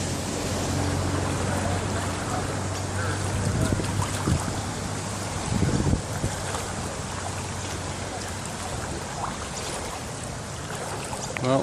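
Truck pushing through deep flood water on a street, a steady rushing swash of displaced water and waves with a low engine hum underneath, continuous and fairly loud throughout.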